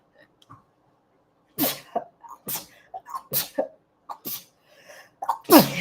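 A series of short, sharp bursts that sound like sneezes, several in a row with brief pauses between them, close and fairly loud.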